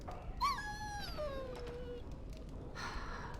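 A dog in Dragon Age: Origins gives one drawn-out whimper that falls in pitch, close and fairly faint over a low ambient bed, followed by a brief soft rustle.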